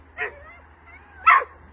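Three chained dogs kept in very bad condition whimper and yelp in two short bursts, close by, with a low steady hum underneath.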